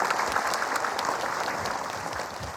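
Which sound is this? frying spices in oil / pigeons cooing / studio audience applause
studio audience applause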